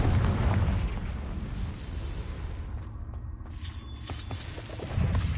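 The Confringo fire spell in Hogwarts Legacy detonates in a broad, rumbling blast that swells and rolls on through the moment, with a second burst near the end; no one speaks.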